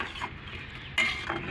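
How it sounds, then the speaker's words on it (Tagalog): A spatula stirs food in a cooking pan, giving a couple of brief, soft scraping strokes over a quiet background. "halo-haluhin natin ng konti"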